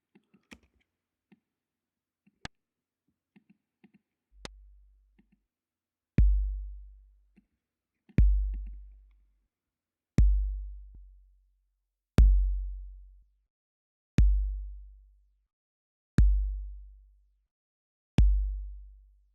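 A synthesized noise click layer for an 808/909-style kick drum in Ableton Live 11 fires eight sharp, evenly spaced hits about two seconds apart, each with a quick low thump tail. A few faint ticks come first, and no talk is heard.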